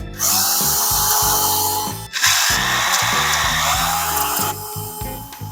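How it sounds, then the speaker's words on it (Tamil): A power drill grinds steadily into concrete, loud and close, with a brief pause before the high whine and rasp resume. "இப்போ நம்ம கான்கிரீட்ல ட்ரில் போடுறோம்"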